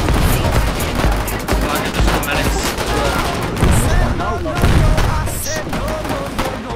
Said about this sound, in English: because infantry is shooting us